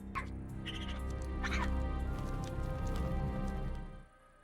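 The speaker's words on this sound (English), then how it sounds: "Those are those Kyros birds." Kyros birds, owl-like alien creatures from Star Wars: The Clone Wars, calling in bright chirping bursts over a steady rumbling ambience, with a brief higher cry near the start and a cluster of calls midway.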